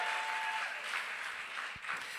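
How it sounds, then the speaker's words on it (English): Audience applause at the Jamaica Teachers' Association education conference, a steady wash of clapping filling the room at moderate level, fairly even throughout with no voices on top. "If you clap a little louder, then other people will hear you too."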